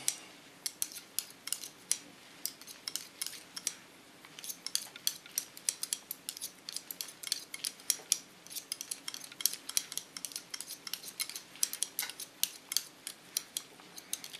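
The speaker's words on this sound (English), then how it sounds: "I start by cutting scissor over comb" Scissors snip hair rapidly in the scissor-over-comb technique during a salon haircut, a dense, steady run of crisp metallic clicks that lasts throughout, close and alone with no talk.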